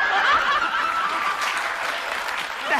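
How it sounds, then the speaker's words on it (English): An audience applauds in a dense, steady clatter of clapping, with some chuckles and laughter mixed in, lasting a few seconds. "What the hell are you applauding about?"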